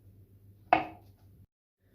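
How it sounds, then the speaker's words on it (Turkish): A single sharp knife cut through a banana against a board, one quick crisp stroke with a short fading tail, close and alone. "Çok kalın olmayacak şekilde ince dilimler halinde doğruyoruz."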